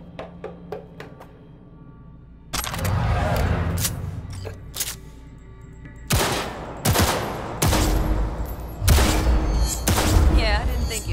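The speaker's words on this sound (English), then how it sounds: "Let's blast through a tactical target practice program." Cyberpunk 2077 target practice session, with a quiet stretch of faint clicks giving way to bursts of loud gunshots, single cracks and rapid volleys separated by brief pauses.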